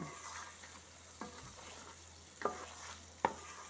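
Crab frying in a pan with coriander, chilli and salt, a faint steady sizzle broken by a few sharp spoon knocks and scrapes as it is stirred, close and quiet with no talk.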